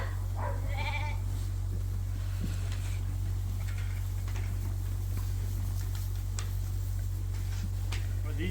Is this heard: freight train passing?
no